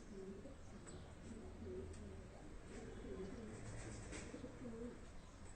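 Pigeons coo softly in repeated low, throaty phrases at a distance, with faint chirps and a steady background hum, during a bird-catching outing.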